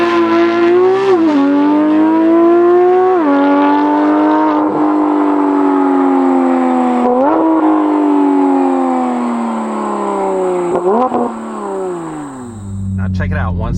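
A Porsche GT3 engine revs high and bounces repeatedly off its rev limiter, a loud, sustained mechanical wail that stutters and rises in several surges before dropping away, with a voice talking over parts of it.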